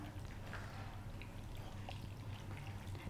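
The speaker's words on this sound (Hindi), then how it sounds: "लास्ट में हम इसमें डालेंगे सिरका" Vinegar, about 50 to 60 ml, poured into marinating mutton liver (kaleji) for barbecue, a soft steady trickle over a low continuous hum, faint and unbroken for a few seconds.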